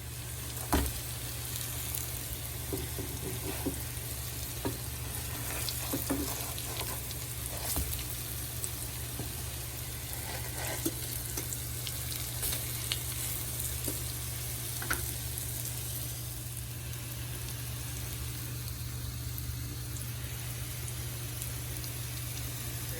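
Steady sizzling and crackling of chicken and potato patties frying in a hot pan over medium heat, continuous and close, with no talking.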